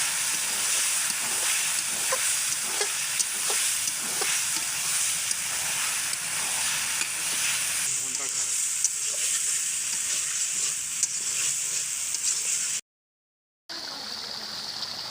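Fresh boneless, fat-free meat frying in a pan of cooked-down spiced masala while being stirred, a loud continuous sizzle and hiss with scraping stirs, close, with a brief cut of silence near the end.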